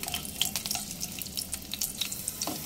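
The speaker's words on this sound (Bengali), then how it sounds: "ফ্লেমেই রসুন ভেজে নেব।" Ten to twelve garlic cloves fry in oil over a low flame, a quiet crackle with scattered pops and light bubbling, soft and close, with no talking.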